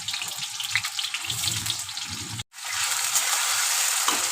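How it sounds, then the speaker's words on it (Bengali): Cut potatoes hit hot oil with a loud, dense crackling sizzle that breaks off for a moment, then returns as a steady, close hiss. "কেটে রাখা আলুটা দিয়ে একটু লাল লাল করে ভেজে নেব।"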